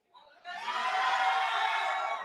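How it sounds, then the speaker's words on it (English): A conference audience cheers and whoops, a sustained crowd roar that swells in after a brief start and holds steady at moderate volume. "Cheer louder."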